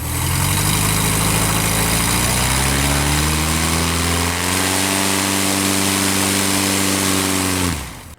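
A Sonex homebuilt aircraft engine running on the ground during run-ups, a loud continuous drone that climbs in pitch as power comes up, holds steady, then cuts off near the end.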